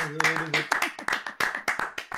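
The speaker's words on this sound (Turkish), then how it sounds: "Alkışlıyoruz." A small group claps in uneven bursts during a treasure-hunt game, sharp close hand claps, while a voice with sustained tones is heard in the first part.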